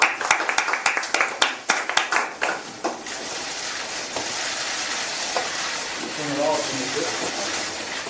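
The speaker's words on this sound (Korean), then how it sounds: "큰 박수 부탁드립니다." Applause at a political party's welcome ceremony for newly recruited figures, a burst of sharp claps in the first few seconds that thins into a sustained, softer crowd murmur and clapping.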